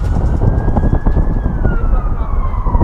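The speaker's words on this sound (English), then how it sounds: "Nice, a police car." A police car siren wails loud and close on a London street, its tone gliding steadily downward across the whole stretch over a constant rumble of traffic.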